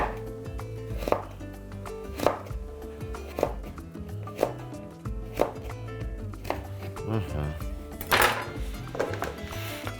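A knife chops vegetables into thin sticks on a board while beef ribs with vegetables are prepared: about a dozen crisp, evenly spaced cuts sound close over a soft music bed.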